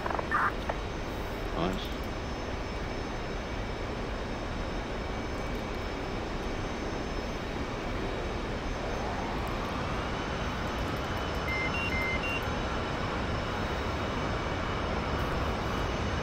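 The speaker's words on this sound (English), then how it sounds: "That tanker, that's the F-16 tanker, that's the Air Force tanker." A tanker aircraft flies in a flight simulator game during carrier-based air-to-ground and aerial refuelling play. A steady, loud jet engine drone persists throughout, and a tone rises and shifts partway through.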